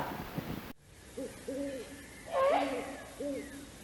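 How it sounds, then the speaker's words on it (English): Low great horned owl hoots repeat several times in a quiet outdoor setting, one louder, higher call in the middle, after a brief burst of noise at the start. "Sometimes juvenile great horned owls will make squawking noises as well."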